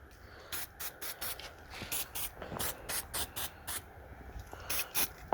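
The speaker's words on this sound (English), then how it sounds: "Now I'm going to spray this seat." Disinfectant sprayed onto a car seat in a rapid series of about a dozen short, close, hissing trigger-spray bursts, some clustered in quick pairs, with no talking.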